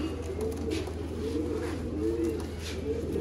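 Low, throaty cooing from red-eyed fancy pigeons repeats in several rolling phrases over a constant background hum, close by and steady, with no voices.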